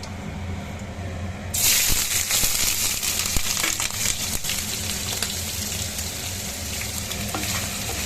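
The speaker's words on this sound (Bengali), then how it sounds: "আর এটাতে পনিরটা ভেজে নিই।" Paneer hits hot oil in a pan and a loud sizzle erupts suddenly, then keeps crackling steadily up close with occasional clinks of stirring.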